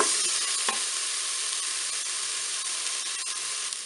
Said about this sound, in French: on va ajouter les oignons pour les faire dorer également